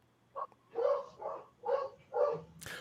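A dog barks on cue, giving about five short, faint barks in a quick uneven run. A brief sharp sound follows at the end.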